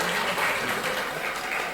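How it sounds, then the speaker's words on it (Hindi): An audience claps at a Major Dhyan Chand birth anniversary event at Durg Science College. The applause is steady and sustained, with a faint voice underneath. "तालियां बजाते रहिए।"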